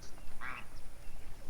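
Ducks chase a cat, giving one clear, short quack burst near the middle over faint background noise with no talking.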